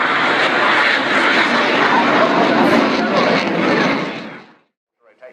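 A loud, steady light aircraft propeller engine drone close by at an airshow, holding level for about four seconds before cutting off abruptly into near silence, followed by brief faint sounds.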